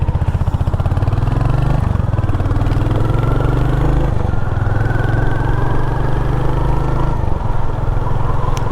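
A 2023 Royal Enfield Hunter 350 single-cylinder motorcycle idling up close, a loud, steady low thumping putter with slight shifts in pitch, running continuously with no talk.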